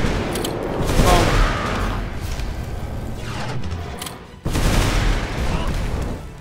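Bomb explosions in the Magicka video game form a dense, loud barrage of blasts and crackling bursts, with a brief dip before another heavy wave of detonations.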